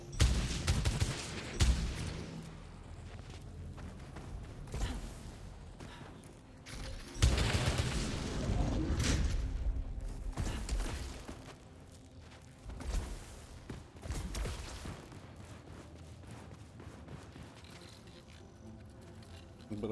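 Bursts of gunfire erupt in Returnal, sharp volleys clustered early and again around the middle, separated by quieter stretches of game ambience, with a voice speaking at times.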